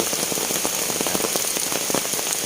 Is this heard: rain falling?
yes